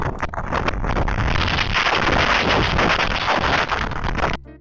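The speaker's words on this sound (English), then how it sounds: "the wind was strong enough to flip the table along with a few other things" Strong gusty wind buffeting a backyard, steady loud roaring rush over the microphone with rattling and knocks, cutting off abruptly at the end.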